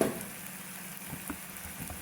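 Goat liver (kaleji) with spices frying on a tawa, a soft, steady sizzle with faint crackles, close by and fairly quiet.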